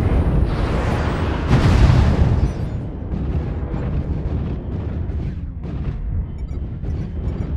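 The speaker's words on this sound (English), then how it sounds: "Airstrike online." Heavy explosions roll out loudly and continuously during an airstrike in the mech combat game MechWarrior Online. A dense wall of blasts peaks early and then settles into a sustained rumble with repeated bursts.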